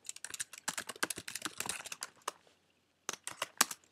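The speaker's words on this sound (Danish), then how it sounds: "Jeg vil starte med at skrive den command, der hedder with statistics" Quick bursts of keystrokes on a computer keyboard while a command is entered in Maple, clattering in an uneven rhythm with a short pause before a final flurry of taps; close and fairly quiet, with no talking.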